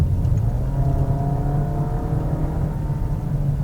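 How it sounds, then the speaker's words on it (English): A Mazda 2 hatchback's 1.5-liter four-cylinder engine revs in a loud, sustained, meaty drone whose pitch climbs gradually, heard close with no talking. "the engine just comes alive and it sounds glorious"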